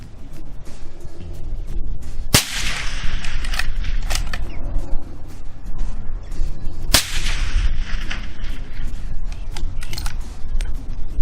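Two sharp, loud .308 rifle shots fired through a Nitro 30 suppressor, each a sudden crack with a brief ringing tail, spaced several seconds apart over outdoor background noise.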